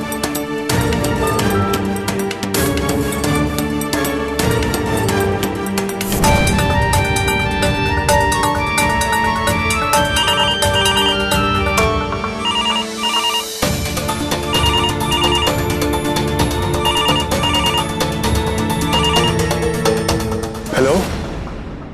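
A landline telephone rings with a repeated electronic tone in an Indian TV drama, partly buried under a loud, dense music score that plays throughout.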